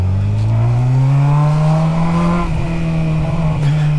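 A Honda Hornet four-cylinder motorcycle engine revs loudly and close by, its smooth whine climbing steadily in pitch over a few seconds, then dipping slightly, with no talking.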